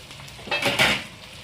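Black pomfret fish frying in a pan, heard as a soft sizzle with two short bursts of scraping and clinking from a utensil against the pan, close and fairly quiet.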